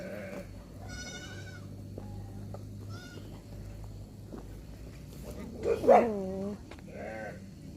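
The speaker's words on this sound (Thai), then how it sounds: "พามาดูน้องแกะนี่" Sheep bleat at a sheep farm at Mon Cham, with several separate wavering calls spread out over a quiet background: one near the start, one midway and a louder, closer cluster toward the end.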